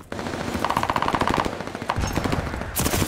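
Rapid automatic gunfire in a Call of Duty multiplayer match, loud, close bursts of machine-gun fire rattling almost continuously, with a brief pause and then another burst near the end.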